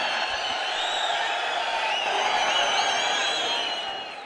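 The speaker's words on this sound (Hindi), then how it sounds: "जोरदार तालियों से आइए स्वागत करें।" A large crowd in a brightly lit stadium roars and cheers to welcome a minister at a public event, a dense, sustained wash of voices and whoops at full volume that eases slightly at the end.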